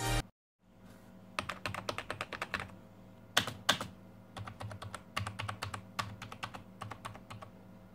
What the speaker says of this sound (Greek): ο θόρυβος που προκαλείται από τα πάτηματα των κουμπιών είναι σχετικά έντονος αλλά υποφερτός